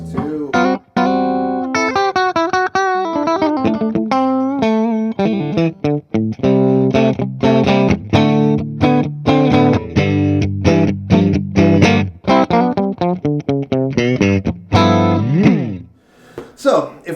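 An electric guitar runs through a Paul Cochrane Timmy overdrive pedal into an amp, playing close, loud runs of notes and chords with a mild, transparent crunch, ending on a ringing strum that fades out.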